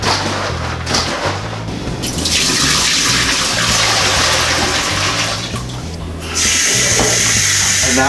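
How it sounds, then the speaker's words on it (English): Water running into a homebrew beer bucket to rinse out oxygen cleaner, a loud close rush and splash that surges, dips briefly and picks up again. "Now we gotta rinse this out because with regular oxygen cleaner, you gotta rinse it out."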